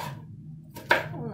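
A knife makes a single sharp chop through peppers on a cutting board, set against quiet kitchen background noise.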